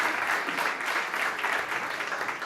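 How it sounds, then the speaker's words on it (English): Steady applause from an audience at the South Summit 2017 travel and tourism startup competition, a dense, even wash of clapping that continues without a break. "Big applause."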